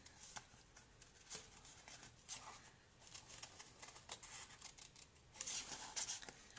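Scissors snip through a paper card during a Stampin' Up card-making session, a quiet series of irregular crisp cuts with a louder burst of snipping near the end.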